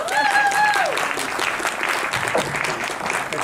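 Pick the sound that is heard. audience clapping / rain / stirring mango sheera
audience clapping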